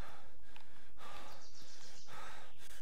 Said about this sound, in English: Another critique, the heavy breathing.